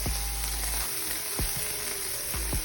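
Corn sizzling gently in a pan with butter, a steady soft frying hiss with a few scraping stir knocks, no voices.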